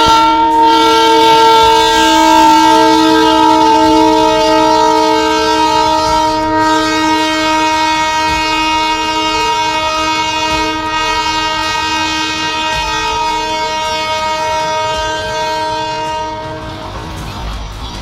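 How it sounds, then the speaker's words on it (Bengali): The Darjeeling toy train arriving at Batasia Loop sounds a loud, close, sustained horn that holds for many seconds before fading slightly at the end. "তো চলো সামনে এখন টয় ট্রেন আসছে"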